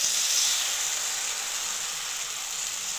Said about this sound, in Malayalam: എന്നിട്ട് ഒരു തവി മാവ് ഒഴിച്ചു കൊടുക്കാം